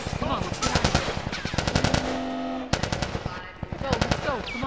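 Rapid automatic gunfire from The Last of Us Part II, loud bursts of machine-gun shots in bunches with brief gaps, mixed with shouting voices during a firefight.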